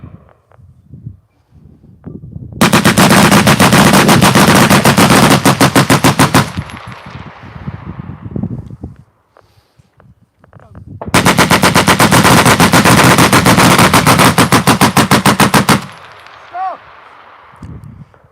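Vickers machine guns firing 50-round bursts at the normal rate, two long, loud, fast rhythmic strings of shots, each about four seconds, separated by quieter outdoor pauses.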